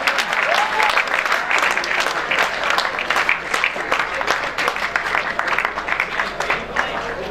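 Loud, dense applause from an audience at a school farewell party for Class 10, sustained steadily throughout with some voices and cheering mixed into the clapping.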